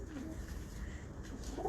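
Pigeons coo softly in a brief, faint stretch, their low burbling calls sitting over quiet background noise.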